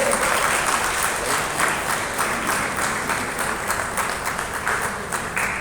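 Crowd applause at an inclusive education fair, a continuous, energetic wash of many people clapping that stays loud and even for nearly six seconds, with a faint crowd murmur underneath.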